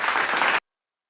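Short burst of clapping in a poetry practice class, lasting about half a second before cutting off abruptly into silence.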